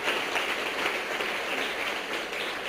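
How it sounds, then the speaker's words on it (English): Audience applause for an award winner at the mBillionth South Asian Award ceremony, a steady wash of clapping lasting the whole moment at moderate loudness with no talk over it. "A round of applause for our friend from Sri Lanka."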